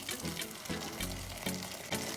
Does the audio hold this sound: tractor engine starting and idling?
no